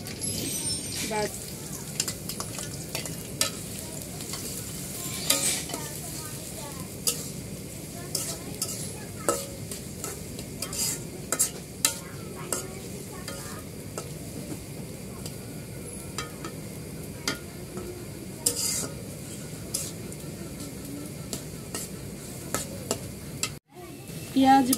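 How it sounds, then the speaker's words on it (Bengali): Onions fry in hot soybean oil in a wok with whole garam masala, a steady close sizzle broken by frequent scraping and clinking stirs, with occasional speech over it. "পেঁয়াজ ভাজা হয়ে গেছে"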